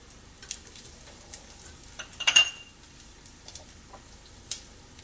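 Onion and garlic stirred in a hot pan for mussels with chorizo, a soft sizzle with a few light scrapes and clicks of the spoon, one louder stir burst midway.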